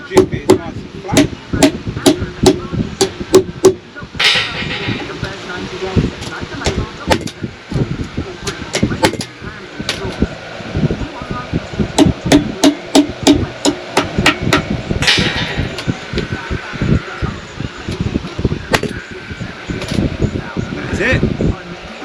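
Nails being hammered into timber joists during a loft conversion, bursts of loud, rapid hammer blows in quick rhythmic runs with short pauses, close by, over a steady fan-like hum and a voice talking.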